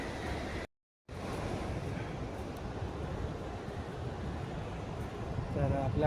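Sea waves at low tide on the Ratnagiri coast, a steady broadband wash of surf close by with some wind noise, broken by a brief dropout early on, and no talking.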